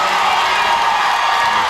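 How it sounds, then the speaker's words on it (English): Basketball fans cheer loudly in a school gym at a Connersville boys' sectional game, a dense roar of shouting and whooping that holds steady without a break. "These Connersville fans haven't had much to cheer about for a while, but they're going at it right now"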